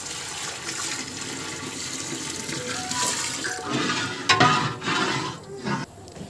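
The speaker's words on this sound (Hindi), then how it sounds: "अब हम इसमें तीन से चार लीटर पानी ऐड करेंगे" Three to four litres of water splash and gush steadily into a biryani cooking pot for several seconds, with a louder burst of pouring near the end.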